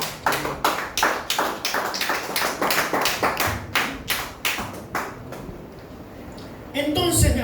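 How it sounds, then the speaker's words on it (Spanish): A church congregation claps steadily during a Spanish-language sermon, a dense run of rhythmic hand claps that fades toward the end before a burst of voices rises. "Denle aplauso al Señor."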